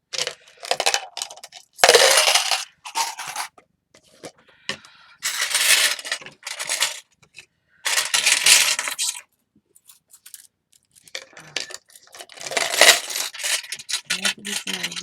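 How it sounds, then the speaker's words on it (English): Metal keys jangle and clink while being put away, in loud, close bursts of rattling separated by short pauses, with no talking. "Let me put the keys away"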